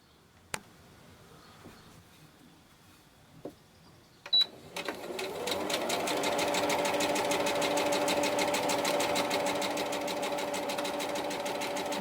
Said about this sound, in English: Run 2 parallel stitches along the length of your fabric on the sewing allowance